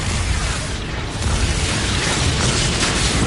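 A blasting Expulso spell in a video game, a loud roaring burst of explosive noise that fills the whole clip with a rumbling, crackling tail and no speech.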